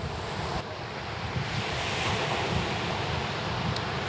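Sea waves crash and surge around a rocky outcrop on the coast at Rhosneigr, Anglesey, a steady loud roar of surf and spray with wind buffeting throughout and no voices.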